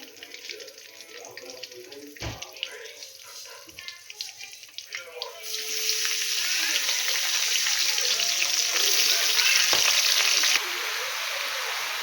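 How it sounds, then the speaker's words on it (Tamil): Pirandai (adamant creeper) dropped into hot oil in a kadai, bursting into a loud, steady sizzle partway through after quieter stirring and clinks. "இப்போ நம்ம பெரண்டியை சேர்த்து நல்லா வதக்கிடலாம் எண்ணெயிலே"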